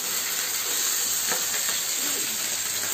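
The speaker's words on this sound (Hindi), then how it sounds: "और ये भी फिश अच्छे से फ्राई हो रही है, फ्लेम हाई रखा है मैंने" Papda fish fries on a high flame, giving a constant, bright hiss and sizzle of hot oil that stays close and even from start to finish, with a few faint scrapes and no voices.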